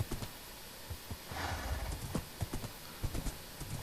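Horse hooves clip-clop in Minecraft, a quick run of light, evenly spaced taps with faint soft snorting in between, close and fairly quiet, no talking.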